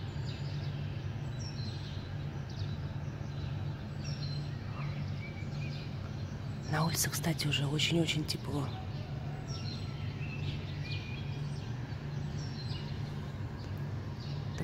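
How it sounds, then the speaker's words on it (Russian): Early-morning birdsong at a hotel in Kemer, Turkey, in April: faint, scattered chirps in the distance over a steady low hum, with a person talking over them. "Хочу, чтобы вы послушали, как птички поют."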